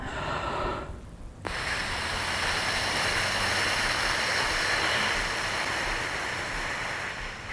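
A beginner flute embouchure exercise with a finger resting on the lower lip: a short inhale, then a long steady rush of breath blown out over the finger, close and breathy, with no talking.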